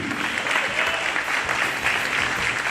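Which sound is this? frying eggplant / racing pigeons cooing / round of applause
round of applause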